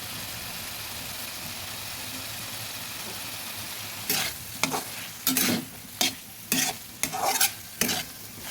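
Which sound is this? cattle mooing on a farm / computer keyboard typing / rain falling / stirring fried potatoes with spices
stirring fried potatoes with spices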